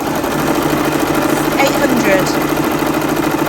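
A Brother VR embroidery machine stitches at around 800 stitches a minute, a fast, steady mechanical whirring and tapping heard under a person talking close by.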